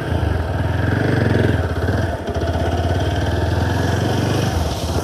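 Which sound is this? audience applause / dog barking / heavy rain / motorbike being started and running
motorbike being started and running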